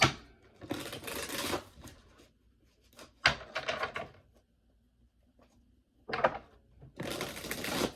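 Tarot cards being riffle-shuffled several times, each burst a fast flutter of snapping card edges, close and fairly loud, separated by brief pauses and soft handling sounds.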